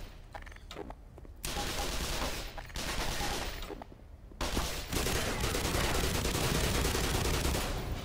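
Sustained gunfire in the first-person shooter Black Mesa, dense bursts of rapid shots that start sparse and swell into a near-continuous loud barrage with no voices.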